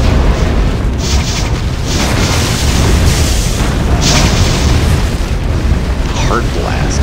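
A Heart Blast skill explosion from the Alchemist class in Torchlight 2 booms loudly and keeps rumbling in a dense, sustained low roar with several swelling bursts across about seven seconds.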